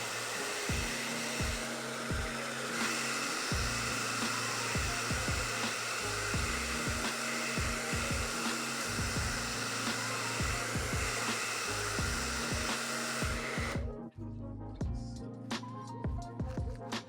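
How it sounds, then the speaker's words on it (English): A hair dryer runs steadily and loudly while curly natural hair is blow-dried, holding a continuous roaring whir with small shifts in pitch, then cutting off near the end as quieter handling noises follow. "I just hold her hair down and then blow dry it"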